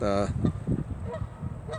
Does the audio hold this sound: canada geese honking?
yes